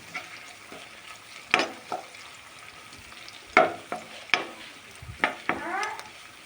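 Garlic paste fries in a pan for a ridge gourd and tomato curry: a soft, low sizzle broken by several sharp clicks and scrapes of a spoon against the pan.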